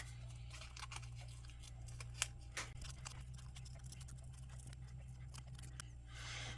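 Scissors trim small paper pieces for spring craft tags with faint, scattered snips and clicks, quiet and close, over a steady low hum.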